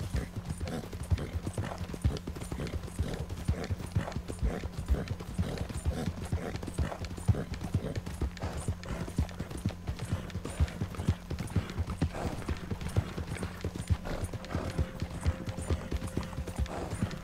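A horse is ridden at a steady pace in the video game Red Dead Online, its hoofbeats a continuous, even clip-clop that stays close and fairly loud throughout, with a soft tone drifting in near the end.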